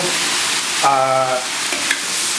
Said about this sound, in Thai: ผมจะเคี่ยวไปเรื่อยก่อน คือผัดให้เกิดความหอม